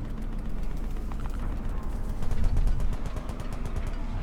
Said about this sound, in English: You guys are shooting at something.